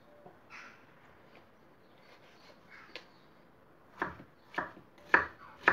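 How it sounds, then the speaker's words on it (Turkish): A knife chops tomatoes into small pieces. A few soft, scattered taps give way to four sharper, louder chops near the end, close by in a quiet kitchen with no talking. "Domateslerimizi de minik minik doğradık."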